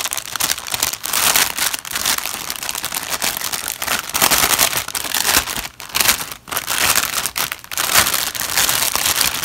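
Paper packaging crinkles and crackles loudly as it is handled during a craft swap unboxing, in continuous irregular bursts of rustling with no speech over it.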